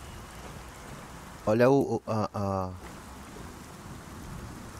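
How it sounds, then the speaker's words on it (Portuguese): Rain patters steadily on a soldier's armor in the video game Gears of War 4, an even hiss throughout with someone briefly speaking over it. "a chuva batendo na armadura do cara"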